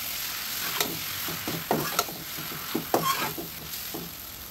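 Noodles frying in a hot pan for chicken chowmein, a steady sizzle broken by repeated scraping and tossing strokes of a spatula, close and fairly loud with no voices.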